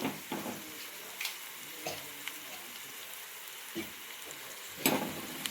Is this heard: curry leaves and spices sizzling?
yes